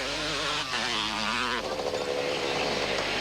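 A Kawasaki or KTM rally motorcycle engine at the 1988 Mmabatho Sun 500 rally blares close and loud, its rasping note holding and then rising in pitch over about three seconds, with no voices.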